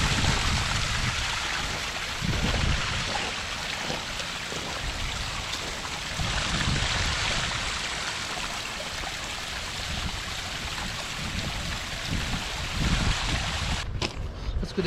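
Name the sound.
small hidden waterfall flowing into pond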